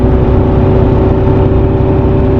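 Dual overhead cam car engine with four valves per cylinder, heard as a loud, steady, close mechanical drone with a constant whirring hum and no voices over it.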